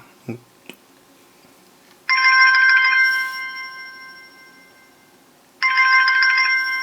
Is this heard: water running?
no